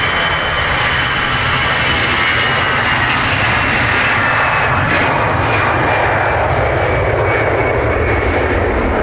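A jet airliner departing Dublin Airport roars loudly and close by, a steady broadband engine rumble and hiss that holds for the whole stretch with no talking.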